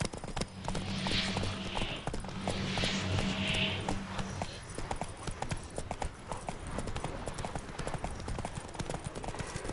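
Hoofbeats of a horse in The Witcher 3, a quick, steady clip-clop running through the whole stretch, with a sustained musical tone and brief game sounds over it during the first half.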